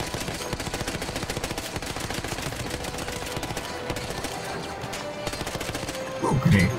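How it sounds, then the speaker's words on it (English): Rapid, close automatic gunfire from the World War I shooter game Battlefield 1, a continuous rattling stream of shots that holds steady before a brief louder burst at the end. "I'm getting shot from behind."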